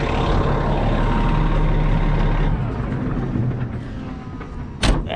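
A Cat 740 articulated truck's engine rumbles loudly and then drops off about halfway as it is shut down, leaving a quieter hiss and a sharp clank near the end.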